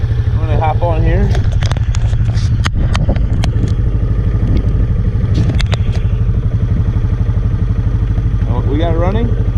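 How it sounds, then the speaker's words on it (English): A Honda TRX 200SX ATV engine idles steadily close by, with a low continuous throb and some clatter through the whole stretch, while a person talks over it. "Alright, so we got it running."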